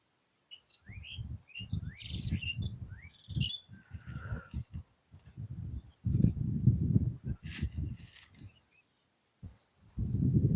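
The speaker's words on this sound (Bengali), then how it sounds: "এখানে অনেক বাবুই পাখি হয়ে গেল" Baya weaver birds chirp and call in quick bursts near rice paddies on a windy, cloudy day in a Mymensingh village, their calls alternating with low rustling and thumping noise.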